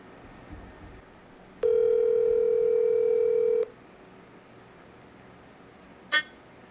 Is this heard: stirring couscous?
no